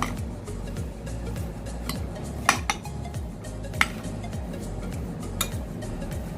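A spoon mixing onion and cucumber salad with honey in a bowl makes steady close scraping and clinking against the dish, with a few sharper knocks and no talk.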